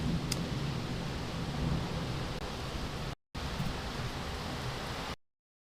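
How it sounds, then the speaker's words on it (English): Heavy rain pours steadily in Nicaragua, a dense, even hiss of falling water with no voices, briefly cut out near the middle and ending abruptly. "you guys must be able to hear the rain"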